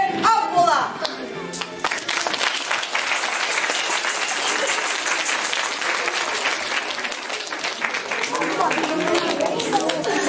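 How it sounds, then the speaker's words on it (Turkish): An audience applauds after a children's play staged by village children, the clapping loud and dense throughout with crowd chatter, an announcer speaking over it near the start. "bizi alkışlarınız ve destekleriniz için çok çok teşekkür ederiz."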